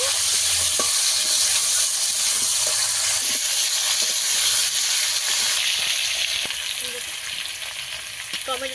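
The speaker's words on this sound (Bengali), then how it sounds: "আলু আমি ভালো করে ভেজে নেব একটু।" Potatoes fry in oil in a pan, a steady, loud crackling sizzle with bright hiss that carries on throughout, with small pops here and there while the frying settles slightly toward the end.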